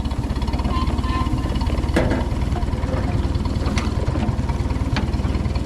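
A J.I. Case 730 tractor engine runs steadily in neutral, a loud, even low-pitched chugging with a fast regular pulse and a couple of brief metallic clanks, close by with no talk.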